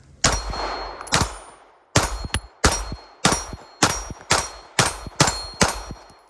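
Wilson Combat EDC X9 3.25-inch pistol firing at steel targets outdoors, each sharp crack followed by a ringing metallic clang, about nine shots in a fairly regular rhythm with brief pauses between them.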